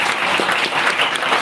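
Town hall audience clapping for a youth activist group, a dense, loud burst of applause filling the whole short moment.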